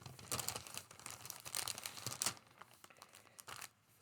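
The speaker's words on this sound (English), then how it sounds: "let's open it together. So crinkling noises." Plastic packaging of a cross-stitch finishing pack crinkles and tears as it is opened, a close, busy run of rustling bursts that fades toward the end.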